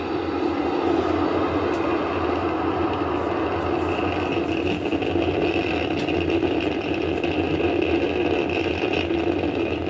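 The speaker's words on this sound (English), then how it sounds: "Falcon 9 has successfully lifted off from pad 40" Falcon 9 rocket engines roaring steadily after liftoff from pad 40, a dense, continuous broadband rumble with a constant level and no voices.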